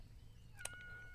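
A cat meows once in the video game Yes, Your Grace, a short, faint, rising call over low background hum.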